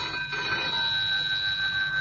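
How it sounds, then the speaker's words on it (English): A bedside telephone rings with a steady, continuous electronic trill, fairly even in loudness throughout, with faint room noise beneath and no voices. "answered at once when the phone rang by my bedside"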